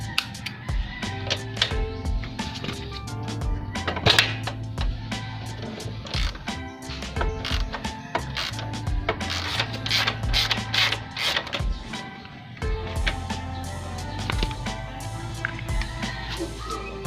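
Ratchet fitted with a 17mm socket working the swing arm bolt on a Raider 150 motorcycle, a steady run of close mechanical clicking and clacking that continues for most of the stretch, with no voices.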